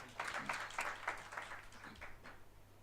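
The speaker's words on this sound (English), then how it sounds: "I request all of you to welcome him with a loud applause" Audience applause welcoming a guest speaker at a transfer pricing study course, a faint, steady patter of many hands clapping throughout, distant and without talk.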